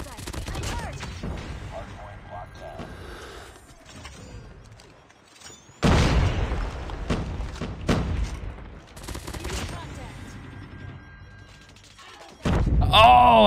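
Explosive blasts and bursts of gunfire from a first-person shooter game, with a heavy grenade-like boom partway through and another loud burst at the end, separated by quieter stretches of clatter.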